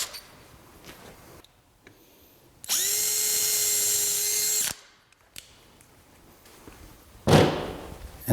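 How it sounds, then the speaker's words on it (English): A power drill bores a 5/16 hole in a hoof nail pad in one steady, loud two-second whine. It opens and closes with quiet handling noise and a sharp knock afterward. "The next step we're going to do is put a 5/16 drill hole."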